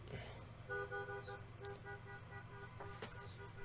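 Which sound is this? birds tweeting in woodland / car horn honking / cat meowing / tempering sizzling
car horn honking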